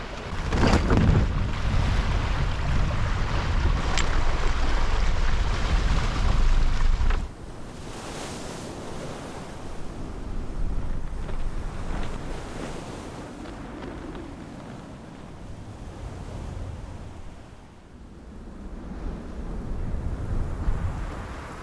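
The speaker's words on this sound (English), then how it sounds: "So the wind is 14 knots on our stern, so we're going downwind now" Steady wind rush and ocean wave wash aboard a sailboat running downwind in a 14-knot stern breeze en route to Iceland, loud wind buffeting for the first seconds, then a calmer continuous swash of water along the hull.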